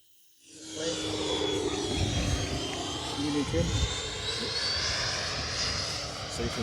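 ElectroStreak electric RC plane flying overhead, its motor rising from silence into a steady whining buzz with high pitched tones, close and loud, while people talk nearby.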